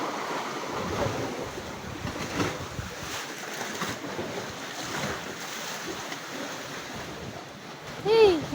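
Sea waves and wind at a shore make a steady, fairly soft wash with rumbling wind noise on the microphone throughout, and a brief louder burst near the end.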